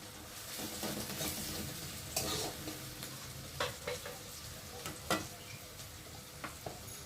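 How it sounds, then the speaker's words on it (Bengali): Garlic and onion fry together in a pan with a faint, steady sizzle, broken by a few light stirring scrapes and clicks of a utensil, close but quiet and without speech. "পেঁয়াজের সাথে রসুনটাকে ভেজে নেব।"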